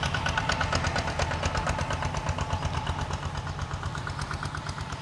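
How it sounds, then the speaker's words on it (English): A tractor engine chugs steadily nearby on a beach at Saracen Bay, Koh Rong Sanloem, with a rhythmic knocking beat, running continuously and fairly loud without any talking. "there are tractors that go up and down the beach, like this one here"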